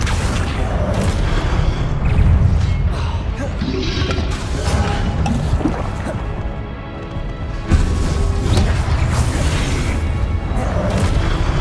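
Booming fire spell blasts in Hogwarts Legacy, loud repeated explosive bursts and crashes layered with game effects and dense background sound throughout.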